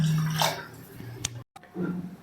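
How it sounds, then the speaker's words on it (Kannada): Water pours into a pressure cooker holding rice and moong dal for khara pongal, a soft, close trickle that stops briefly and then resumes. "ಪೊಂಗಲ್ಗೆ ಬೇಕಾಗಿರೋ ಅಷ್ಟು ನೀರು ಹಾಕೊಳ್ಳೋಣ."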